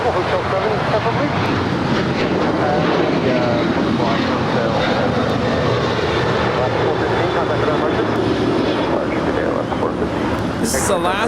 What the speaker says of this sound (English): This is Alaska Airlines 415 departing to Seattle, Tacoma. It's a 737-900 ER.